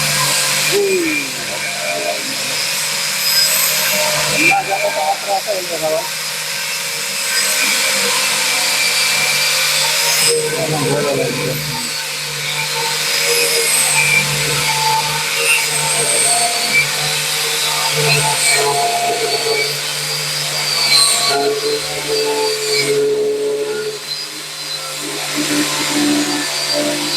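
A Dongcheng DSM21-100BC angle grinder runs continuously with a loud, steady high-pitched whine that dips slightly at a few moments, while a person talks over it.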